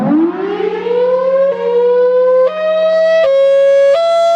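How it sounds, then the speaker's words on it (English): A Thunderbolt 1003 tornado siren wails loud and close, its pitch sweeping upward then holding a steady, harmonically rich tone with echoing reflections and brief step changes as it rotates away, with no voices. "This siren is echoing facing the other way."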